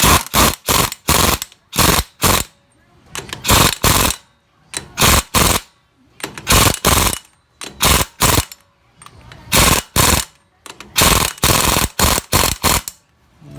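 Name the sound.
impact wrench tightening a lock nut on a Gravely Model L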